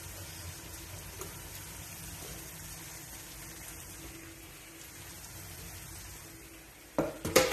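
Green peas tipped into a pan of chicken and potatoes cooking in lemon and soy sauce, a soft steady sizzle with a brief louder clatter and stir near the end, no talking.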